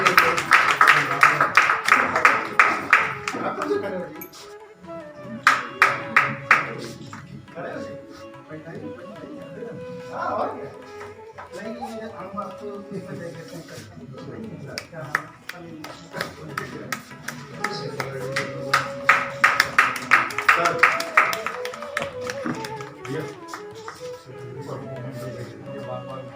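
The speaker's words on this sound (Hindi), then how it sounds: "एक बार जोरदार तालियां" Applause from the audience at a Hindi literary award ceremony marking Sahityakar Divas, bursts of many hands clapping that swell, fade and return across the stretch, with a voice announcing over the room between the rounds.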